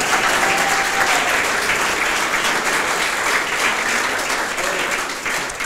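Audience applause, a dense, steady wash of many hands clapping that holds strong throughout and tapers slightly at the end.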